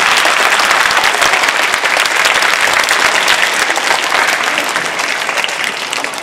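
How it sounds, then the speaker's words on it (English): Sustained, loud audience applause fills a school award ceremony hall, dense and even throughout before tapering slightly at the end. "Let's give them a round of applause,"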